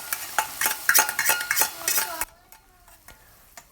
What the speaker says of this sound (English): Continue to saute these onions until they are completely wilted.